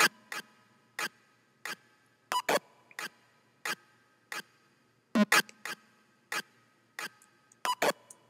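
Glitchy frozen synth notes played soloed for a future-style track: sharp, clicky stutters at a roughly regular pulse, some doubled, separated by near silence.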